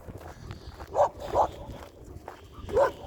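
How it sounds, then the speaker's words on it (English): A German Shepherd on a reactivity training walk gives a few short barks or yips, three distinct bursts spaced about a second apart, moderately near over faint outdoor background noise and footsteps. "Cause that stuff right there, that constant barking, that drives you nuts."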